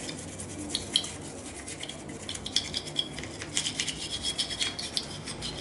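Old toothbrush scrubbing a motorcycle brake caliper, a soft bristly rubbing with quick irregular strokes that grow busier and more rhythmic toward the end, close and fairly quiet, with no talking.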